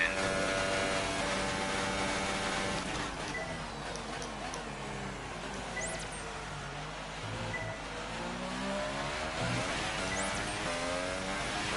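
Formula One car from the F1 2018 racing game howling through a lap, its engine note continuous and loud with rising and falling pitch through gear changes and corners, no talking over it.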